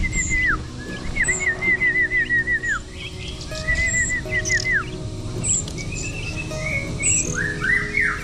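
Red-whiskered bulbul chicks in a cage give repeated bright chirps and short trilling whistles, close and clear, in several bursts over a steady rural background.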